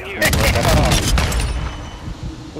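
Rocket launcher blasts and gunfire burst in a video game Hardpoint match, a loud cluster of booming explosions and rapid shots that crackle and then fade into a lower rumble.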